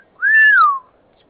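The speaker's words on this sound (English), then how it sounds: "Could you stop wolf whistling during the video" A single rising-then-falling wolf whistle, one clear sustained human whistle lasting under a second, close and loud against near silence.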